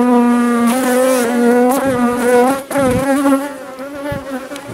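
Honeybees at an apiary hive during a late-summer check: a loud, close, continuous buzzing drone with a strong rich hum that wavers slightly as bees move around, with no voices.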